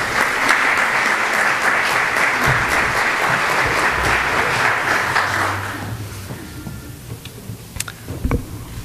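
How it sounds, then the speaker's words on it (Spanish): An audience applauds a lecturer invited to speak on integrity among public servants, steady loud clapping that carries for several seconds and then fades into scattered claps and room noise. "Un aplauso para él, por favor"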